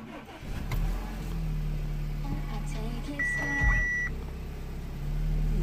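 An Audi A5 1.8 TFSI with an EPC warning fault cranks and starts, with chimes and beeps from the dash followed by the engine catching and settling into a steady idle, heard close from the driver's seat.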